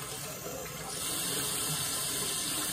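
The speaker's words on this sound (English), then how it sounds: "let's put some more cold water." Cold water gushes from a tap, a loud, steady close rush that strengthens partway through and continues without talk.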